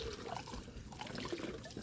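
Water splashes and trickles during washing, a faint, continuous patter of small splashes and dribbles close by.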